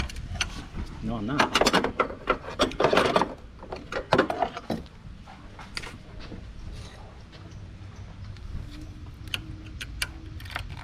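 A wrench works a 13 mm alternator bolt on a 2009 Pontiac G6 2.4L, giving scattered close metallic clicks and ratcheting ticks, with someone talking intermittently over the work.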